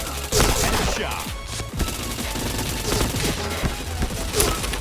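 Rapid bursts of gunfire from the online shooter Point Blank, loud and close, with sharp repeated shots and a short pause before the volley resumes.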